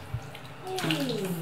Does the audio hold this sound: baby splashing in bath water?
yes